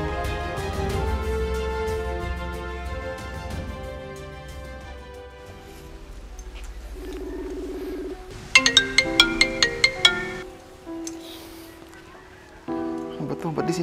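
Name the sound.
phone ringing, unanswered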